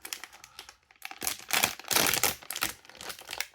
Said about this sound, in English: This is the pack. Alright, let's rip it open.